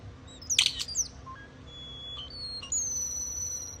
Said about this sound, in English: you can listen to the sounds that parrots make